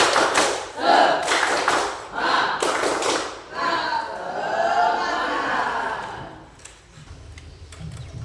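A classroom of students performs a rhythmic clapping cheer, sharp claps and taps landing in quick bursts over the first few seconds before the group's voices and chanting take over.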